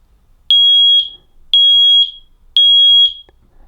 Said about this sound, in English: when water's detected between here, the alarm will go off